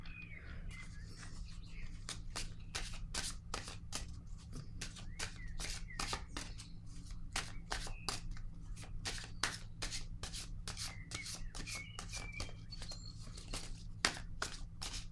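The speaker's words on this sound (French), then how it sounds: "Je vais piger maintenant une carte animale" Oracle animal cards are shuffled and drawn by hand in quiet, a long run of rapid crisp riffling flicks with brief pauses over a steady low background hum, faint bird chirps in the distance.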